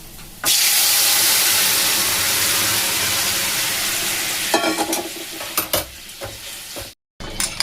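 Shukto vegetables dropped into a hot pan with bay leaf and tempering: a sudden loud burst of sizzling that holds as a steady hiss, later broken by several spoon scrapes and clatters, then a brief cut to silence.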